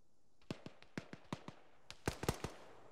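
Distant gunfire in a military video game, a sequence of sharp, faint cracks spaced irregularly, then a quicker cluster of shots near the end over quiet background.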